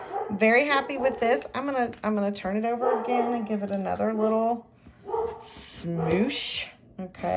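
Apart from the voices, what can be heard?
dog barking in the background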